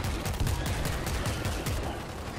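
Dense, rapid gunfire in the video game World War Z rattles continuously in a loud burst, sounding like automatic weapons firing in quick succession without pause.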